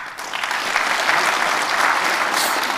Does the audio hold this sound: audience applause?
yes